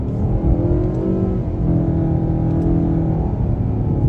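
A 2023 Nissan Altima SR accelerates in first gear, its engine drone loud and close, holding a steady, smooth pitch throughout with no talk over it.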